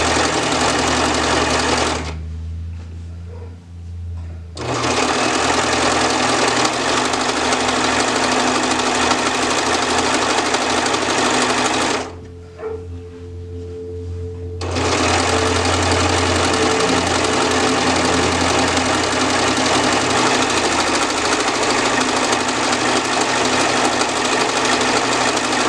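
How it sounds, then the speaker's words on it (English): A serger runs stitching along a fabric edge without trimming, a loud, steady mechanical whir that continues for long stretches and stops twice briefly for a few seconds, with no talking. "Just stitching along the edge."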